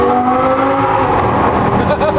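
A Lamborghini supercar accelerates hard in a race, its engine a loud, steady, high-pitched roar rising slightly in tone, with a voice talking over it.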